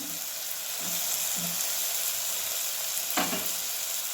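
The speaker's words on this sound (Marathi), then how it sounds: "मिक्स करून घेऊया छान भाजलंय बघा आपलं टोमॅटो कांदा बघा" Tomato and onion fry in a pan for an okra vegetable dish, a steady close sizzle with a few scraping stirs of the spoon against the pan, no voices.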